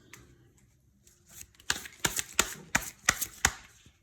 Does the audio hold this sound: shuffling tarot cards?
yes